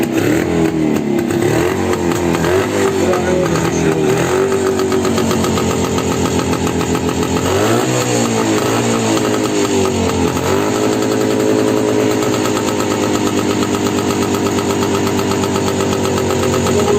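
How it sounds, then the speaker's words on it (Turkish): An old Jawa motorcycle engine, left unused for years, runs loud and close with a steady rough chugging idle, briefly revving up before settling back to a continuous rattly drone. "Hallem Beş senedir yatan motor hemen çalıştı."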